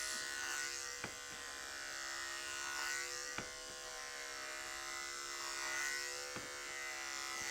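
An electric clipper buzzes steadily and close up as it shaves a dog's coat, with a constant whine and occasional sharp clicks as the blade moves through the fur.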